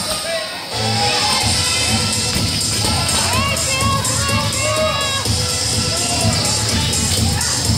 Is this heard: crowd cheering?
yes